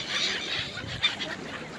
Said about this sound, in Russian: как всегда, собрала около себя птицы.